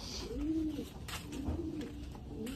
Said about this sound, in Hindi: मेरा भैया है, सारे कबूतर का अभी निकाल रहा है धीरे धीरे।